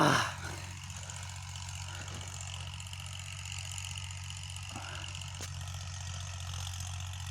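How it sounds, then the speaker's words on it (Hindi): A tractor engine idles steadily in a farm field, a low continuous mechanical hum heard close, with a brief louder start and occasional faint clicks. "जो ट्रैक्टर चला रहे हैं भाई साहब"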